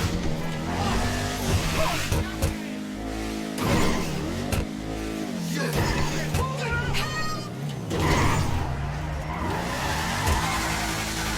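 An Arbiter GT car in GTA 5 drives with a steady engine drone that rises and falls as it revs, with brief tire squeals and skids, and a voice talks quietly underneath.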